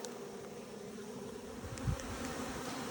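Honey bees droning continuously around a hive, a steady low buzz with a brief louder pass from a nearby bee, heard close with no voices.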